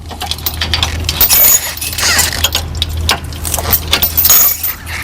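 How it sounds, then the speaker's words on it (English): Metal safety chains unhooked from a car's trailer hitch on a Quicksilver camper trailer, a series of close, sharp jangling and clinking bursts with short pauses between them. "You want to unhook your safety chains."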